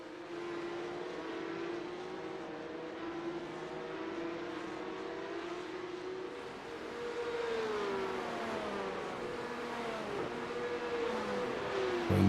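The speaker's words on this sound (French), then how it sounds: "Un beau petit train de 6 voitures là, en dedans d'une seconde chaque." A close pack of six Porsche Cup race cars rushes past on a circuit, engines droning and rising and falling in pitch as they shift and accelerate, the sound growing louder toward the end.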